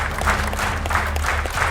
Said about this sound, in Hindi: इसरो का बाहुबली रॉकेट जैसे ही अपनी मंजिल की तरफ रवाना हुआ, तालियों की गड़गड़ाहट गूंज उठी